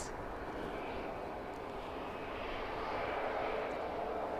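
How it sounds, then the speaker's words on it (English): A Norwegian airliner in Freddie Mercury livery comes in to land at Manchester Airport, a faint, distant jet roar swelling slightly over a few seconds with a voice murmuring underneath. "Norwegian is on its way in and it's got Freddie livery."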